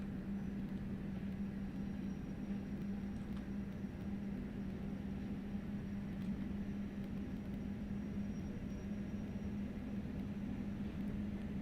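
Steam locomotive on the West Somerset Railway in Train Sim World, working under throttle at a crawl with a steady low hum and rumble that holds constant and faint throughout, no voices.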